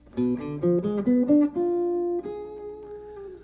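Plucked acoustic guitar notes step through a tense, dissonant diminished triad arpeggio several times, ending on a sustained ringing note that slowly fades, played alone.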